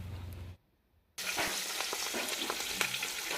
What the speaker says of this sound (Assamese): এয়া চাওক আমাৰ বাইদেৱে মাছ ভাজি আছে।